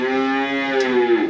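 A cow being hand-fed bread gives one loud, close, drawn-out moo, the only sound heard.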